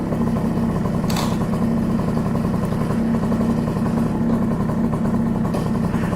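Honda Elite scooter fitted with an NCY big bore kit running steadily at close range, a loud, even, buzzing engine drone with no talk over it.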